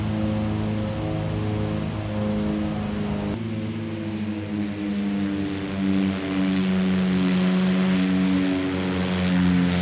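Steady droning propeller engine of a Beechcraft Duchess 76 twin in X-Plane 11, a tonal hum with layered harmonics that shifts pitch partway through, flying low and slow over the ground.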